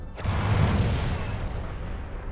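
A plasma torpedo strikes a starship's shield in a Star Trek space combat game, giving one heavy booming impact that swells, then fades into a rumbling, hissing decay over about two seconds.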